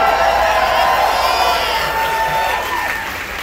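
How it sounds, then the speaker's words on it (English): An outdoor marching band audience cheers and applauds, a loud, dense wash of claps and shouts that holds steady, then eases off slightly toward the end. "They like getting compliments. That's why they cheer when I say that stuff."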